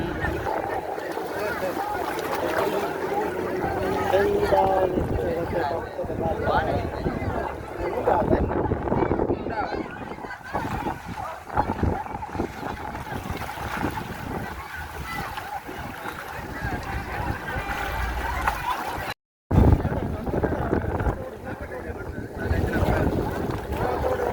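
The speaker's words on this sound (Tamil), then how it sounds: "இப்போ நடைபெற்று முடிந்த போட்டி நிகழ்வு இருபத்தைந்து வலு கொண்ட எஞ்சின்கள் பொருத்தப்பட்ட படகுகளுக்கான போட்டி நிகழ்வு" Motorboats fitted with 25 horsepower engines race on the open sea, with steady engine drone, wind buffeting the microphone and water splashing over about twenty-four seconds, with a brief dropout.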